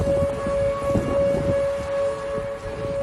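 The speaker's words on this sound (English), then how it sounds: "that's the sound of tornado sirens going off in Dallas." Tornado sirens in Dallas wail in a steady, sustained tone from a distance, over low rumbling and faint rain, with no voices.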